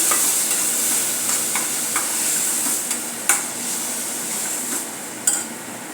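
Tomatoes and gravy ingredients for a drumstick curry sautéing in a pan, with a steady close sizzle and occasional sharp clinks of a spoon stirring against the metal.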